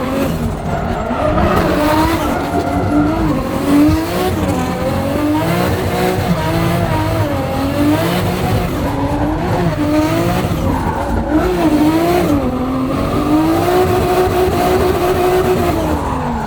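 Drift cars slide around a course at a European car show, engines roaring and revving while tires squeal continuously in long wavering wails, loud and sustained throughout.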